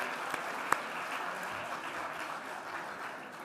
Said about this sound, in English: a big round of applause for the Alpern family